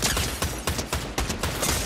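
Rapid bursts of automatic gunfire in the Fortnite video game, several sharp volleys in quick succession at a moderate level, with no talk over them.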